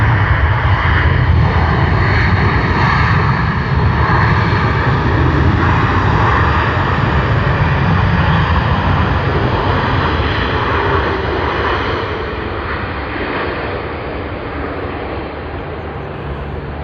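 A Jetstar jet airliner at Sydney Airport produces a loud, continuous roar of engine noise across the whole stretch, easing slightly toward the end. No one speaks.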